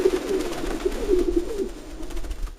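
A pigeon with snowy white wings coos in a run of soft, low, throaty repeated calls, close and clear, with no voices.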